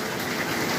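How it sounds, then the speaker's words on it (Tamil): Heavy rain falling in Coimbatore, a dense, continuous hiss of drops on surfaces, steady and fairly loud throughout with no voices. "இங்கே பாருங்க காய்ஸ் மழை இங்கே பூராமே மழை"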